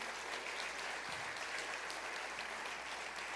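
A church congregation applauds, a steady wash of many hands clapping at moderate distance, continuous and even for a few seconds without speech on top.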